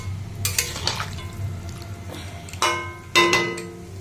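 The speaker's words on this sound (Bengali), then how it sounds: "নিরামিষ তরকারিটা ভালো করে ভেজে" Vegetarian curry frying and being stirred in a home kitchen pan, a soft steady sizzle with scattered scraping stirs and a couple of sharper clinks of a utensil against the pan.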